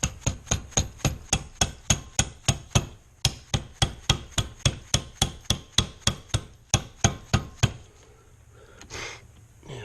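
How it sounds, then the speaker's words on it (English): A small rubber hammer raps on Jaguar MKII front subframe parts in a steady run of about thirty sharp, evenly spaced taps, close and loud, with a brief pause partway and the tapping stopping near the end. "Where's my little rubber hammer?"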